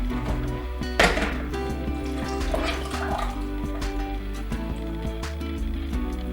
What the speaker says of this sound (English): go ahead and get a strainer and a bowl and add it to the strainer.